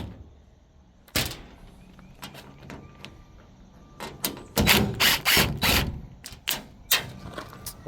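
Top panel coming off an HVAC condenser unit during coil-cleaning maintenance, heard as scattered metallic clanks, rattles and scrapes, with one sharp knock early and a dense cluster of louder clatters near the end, close by and without talk.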